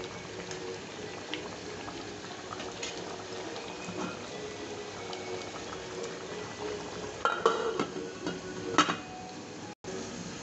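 Rice bubbles in a pot for Hyderabadi bagara rice, a steady, soft rolling boil heard close, with a few brief clinks of the pot toward the end.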